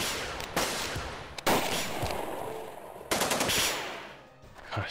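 Bursts of automatic gunfire from the video game Jagged Alliance 2, with loud broadband volleys separated by short gaps in a firefight, fairly close and dominant.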